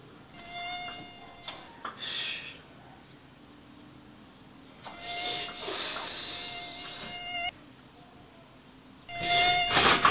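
High-pitched mosquito whine buzzing in close bursts, swelling loud near the ear, fading, then returning, over a quiet background.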